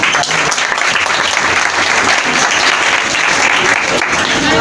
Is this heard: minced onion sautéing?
no